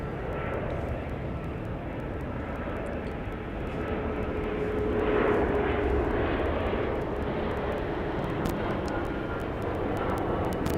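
Jet airliner landing at night at Dallas Love Field, spoilers up and thrust reversers out, a broad engine roar that swells midway as reverse thrust builds, with light clicks scattered over it.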